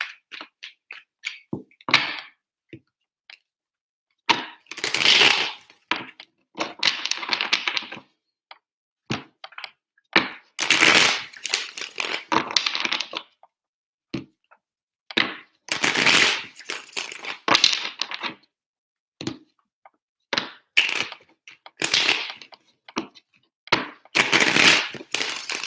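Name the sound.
shuffling tarot cards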